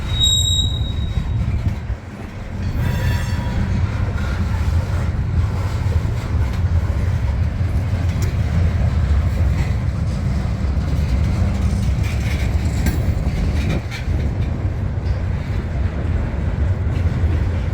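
A train departs at Colton, its wheels squealing and rumbling loudly and steadily close by, with no talking over the noise.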